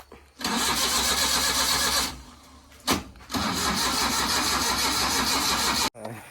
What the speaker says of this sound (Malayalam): അപ്പോൾ ഡാഡി വണ്ടി സ്റ്റാർട്ട് ചെയ്യുന്നു.